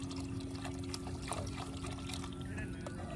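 Water poured into a pot while cooking chicken biryani in a village kitchen, a steady close trickle and splash that keeps going without a break, with a low hum underneath.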